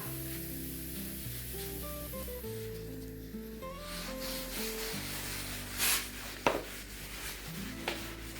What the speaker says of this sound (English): the first thing I'm wiping off is anything that got up here on this band